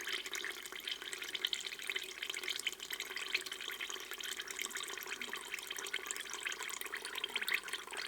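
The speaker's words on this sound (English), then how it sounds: "We've opened the valve here, and really hot water's coming out." Really hot water gushing from an opened valve during beeswax filtering, a steady close hiss and splash of flowing liquid that continues unbroken throughout.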